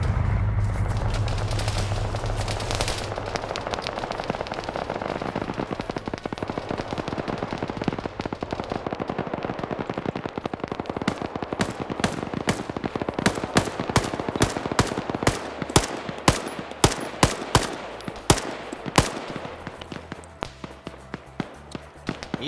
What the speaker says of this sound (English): KPTV now returning fire on the Humvee